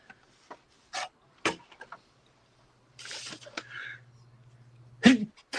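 A single sharp sneeze bursts out amid scattered clicks and light shuffling in a quiet room, followed by soft movement and a low hum.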